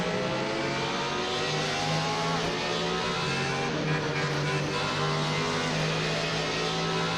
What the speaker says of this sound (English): Just blipping it down that gearbox there as we come back into Redgate.